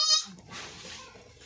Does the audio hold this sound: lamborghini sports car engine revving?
no